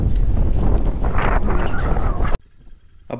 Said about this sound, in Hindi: बहुत तेज़ हवा भाई, बहुत तेज़